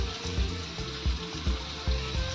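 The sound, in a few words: mustard seeds sizzling in hot oil for tomato bhaji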